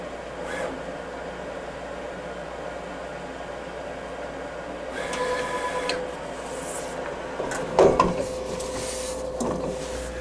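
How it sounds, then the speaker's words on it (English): A printer-cutter machine runs its blade through a printed heat transfer vinyl graphic, giving a steady mechanical whir with a few rattling shifts and a brief louder clatter near the end, close by and with no talking. "Now a blade will come out and cut the graphic."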